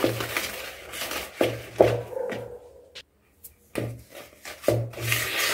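Ragi biscuit dough mixed with crushed ingredients and melted butter gives repeated close scraping, rubbing strokes in an uneven rhythm, with short pauses between bursts and no talk.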